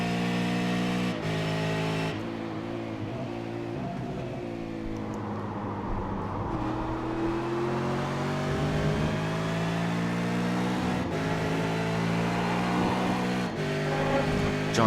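V8 race cars thunder past the pits at Interlagos in a racing sim, layered engine drones rising and falling as they go by, with brief sharp breaks in the sound.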